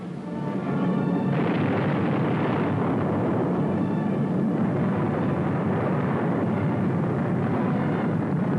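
Parachute fragmentation bombs dropped by B-25 bombers explode in a WWII raid near Rome, a loud, continuous roar of blasts and rumble that swells after the first second and holds steady without pause.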